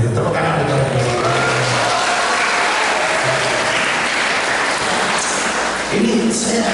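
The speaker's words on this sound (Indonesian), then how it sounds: "Tepuk tangan untuk mereka." Sustained applause from an audience honouring Islamic boarding school students and their teachers, a dense steady wash of clapping throughout with a voice speaking faintly over it.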